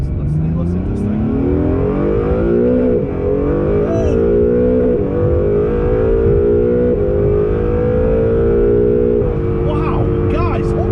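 A mid-engine Acura NSX pulls hard, its engine note climbing steadily in pitch through the revs with a couple of brief dips at gear changes, loud and close from inside the cabin.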